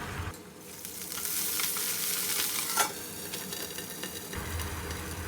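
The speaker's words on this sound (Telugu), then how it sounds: "ఆయిల్ హీట్ అయిన తర్వాత ఈ పచ్చిమిర్చిని ఇలా వేసేసి మూత పెట్టి మగ్గనిద్దాము." Green chillies fry in hot oil with a continuous bright sizzle and crackle, close and fairly loud. A sharp pop comes midway, and the sizzle eases toward the end. No speech.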